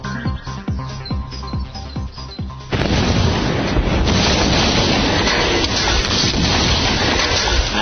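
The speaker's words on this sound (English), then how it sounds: "As our cesium sinks in the water, the rapid generation of hydrogen gas should produce quite an explosion." Cesium metal dropped into water sets off a hydrogen gas explosion outdoors: a quieter stretch breaks into a sudden loud, broad blast that keeps roaring and rushing for several seconds.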